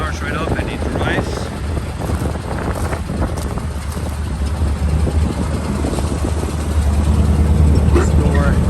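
A 1948 Mercury wrecker truck engine runs with a continuous low rumble under wind buffeting and passing talk, steady and close throughout.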